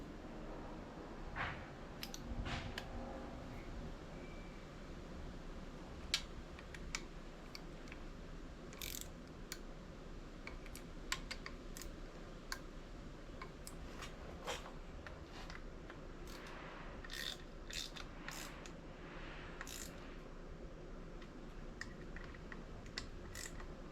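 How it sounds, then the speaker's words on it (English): Ratchet clicks while head bolts are tightened to 10 newton meters on a Honda Goldwing engine, a steady run of small close mechanical ticks and pawl clatter over low workshop rumble, with no talking. "It will tighten these to 10 Newton meters."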